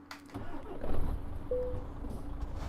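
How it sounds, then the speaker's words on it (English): Truck engine starting up in the Euro Truck Simulator 2 driving game, a low rumbling crank that settles into a steady idle, with a brief tonal whine partway through. "I've just turned the engine on."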